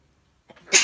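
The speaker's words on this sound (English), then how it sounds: "and I'm going to sneeze." One short, sharp human sneeze, close and abrupt, preceded by a brief intake of breath.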